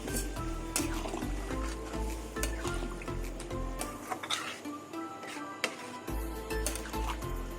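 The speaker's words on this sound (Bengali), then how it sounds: "এবার জল দিয়ে দেবো" Water poured into a cooking pan of simmering dried pea ghugni, a hissing, bubbling pour with sizzle and a few clinks, close and moderately loud, ending in a brief quieter pause before the sizzle returns.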